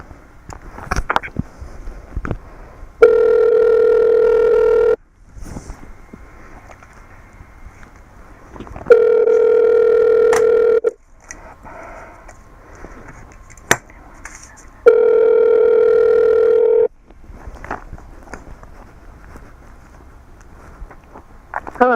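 A telephone call being transferred rings on the line: three long, loud ringback tones, each about two seconds, separated by stretches of faint line hiss and background noise, with no voices.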